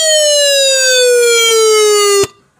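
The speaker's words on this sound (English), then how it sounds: "So we hooked up a police siren." A police siren plays through a Rockford car audio system with Rockford Pro tweeters in a truck, a very loud, close, steady wail that drops slightly in pitch before cutting off sharply, leaving brief fading room noise.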